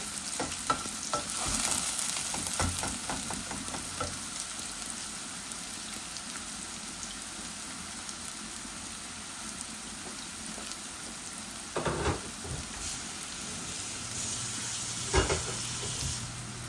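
Onion frying in a pan with garlic already browned, a steady hissing sizzle throughout, with stirring scrapes early on and a few sharper clatters later, moderately quiet and without talk.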